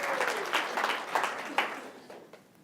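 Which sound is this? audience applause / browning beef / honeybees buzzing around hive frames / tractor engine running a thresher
audience applause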